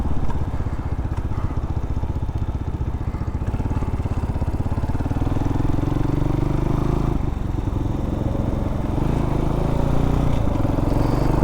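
A Hawk-X 250 motorcycle engine thrums steadily while riding on a back road, loud and close, with a pulsing idle-like rumble that rises in pitch midway as it accelerates.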